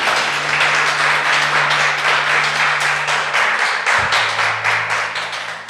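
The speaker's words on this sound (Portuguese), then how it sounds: "se aplauda o Senhor bem forte mais uma vez" A church congregation applauds loudly and steadily during an evening worship service, dense clapping filling the room for several seconds over sustained organ-like tones and music.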